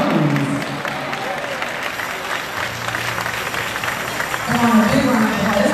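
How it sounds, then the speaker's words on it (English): A crowd in a Detroit church applauds during a musical tribute, with continuous clapping that swells at the end and voices talking over it. "Come on, big round of applause."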